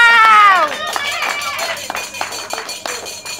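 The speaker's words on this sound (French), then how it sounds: "On acclame." Wedding guests clapping in scattered, uneven applause after a loud voice at the start, with crowd noise and people talking throughout.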